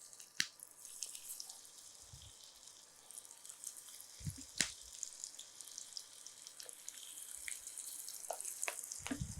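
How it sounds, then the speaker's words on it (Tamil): Marinated chicken deep-fries in hot oil in a kadai, giving a faint, steady sizzle broken by a few sharp, scattered pops and crackles. "இந்த சிக்கனை வந்து இதில் அப்படியே பொறிச்சு எடுத்துடலாம்"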